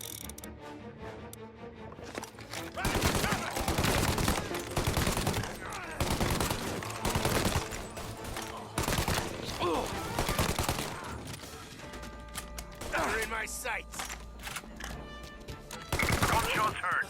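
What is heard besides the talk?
gunfire in the video game Mafia: Definitive Edition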